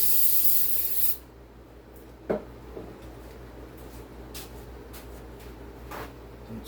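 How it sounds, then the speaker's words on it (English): Brake cleaner sprays in a loud steady hiss from an aerosol can, rinsing out a part on a 2511 clone during teardown, then cuts off abruptly, leaving faint handling rubs and a few small clicks. "I'm gonna rinse this out with some brake cleaner"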